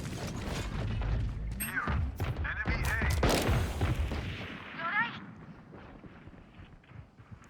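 Missile launches in a video game: a dense burst of whooshing, crackling fire and mechanical clatter that builds and then thins out, heard under a player's talking.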